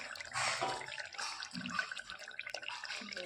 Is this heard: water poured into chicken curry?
yes